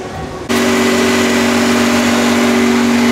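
A Mercedes-AMG One hypercar engine starts up and runs steadily while being preheated at a track day, a loud, constant mechanical drone with a strong low hum.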